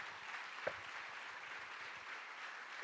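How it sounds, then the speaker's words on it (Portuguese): Applause from a church congregation, a steady soft patter of clapping heard at some distance, with no voices over it. "Meu Deus, aplauda mesmo."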